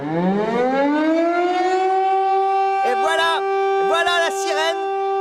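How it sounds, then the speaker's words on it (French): A French civil defense siren sounds its monthly test, a loud wailing tone rising and then holding steady across the neighborhood, with a person talking over it partway through. "les sirènes de la sécurité civile vont bientôt hurler."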